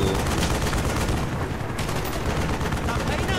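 Dense, continuous machine gun fire in the Call of Duty: Black Ops video game, loud and rapid throughout with layered shots and battle noise, voices faintly mixed in.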